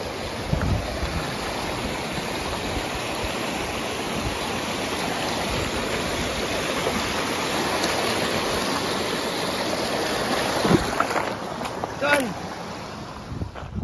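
Continuous rushing water of a creek flowing steadily close by, with a few brief knocks and splashes near the end.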